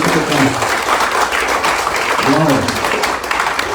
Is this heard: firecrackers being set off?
no